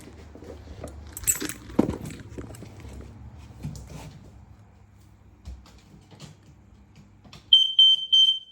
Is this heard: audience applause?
no